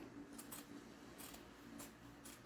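Old, dull scissors trim fabric lining in a series of soft, quick snips spaced irregularly; quiet and close, with no voices.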